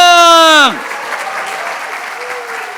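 An audience at a scholarship award ceremony in a National Assembly conference hall bursts into loud applause and cheering right after a host's raised voice, the clapping continuing as a dense, even wash.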